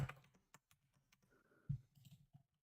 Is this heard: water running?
no